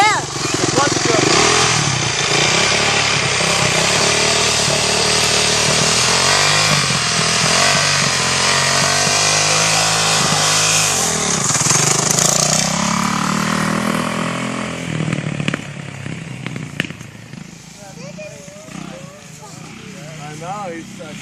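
A Yamaha 450cc dirt bike engine runs loud and close for a long stretch, then drops to a lower, rougher idle, with people talking over it.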